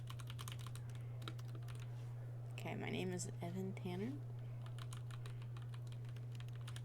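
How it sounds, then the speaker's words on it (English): Random keys struck on a computer keyboard in quick, irregular clicks that run through the clip, joined in the middle by someone speaking over a steady low electrical hum. "Just hitting random keys."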